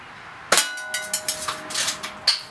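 A sharp, close crack from a BB rifle, either a Daisy Red Ryder or a Crosman Marlin Cowboy, is followed by a ringing metallic ping and a series of lighter clinks and rattles as the BB strikes and bounces off a target.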